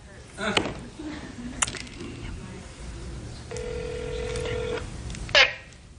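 A phone's voicemail system plays its tones over a speaker, with short beeps and a sustained dial-type tone that lasts about a second, mixed with brief clicks and a sharp sound at the end.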